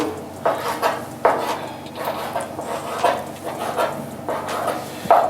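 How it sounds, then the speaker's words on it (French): A knife chops seafood into small pieces on a board in a kitchen, with irregular sharp knocks and scraping, fairly close, a few cutlery-like clinks between cuts. "Et là, on va les couper comme ça. Des petits morceaux."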